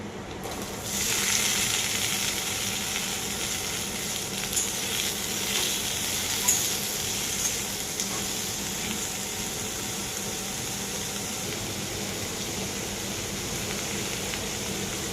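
Drumsticks and potatoes fry in hot mustard oil with a continuous loud sizzle and hiss, occasional light stirring clinks, no voices.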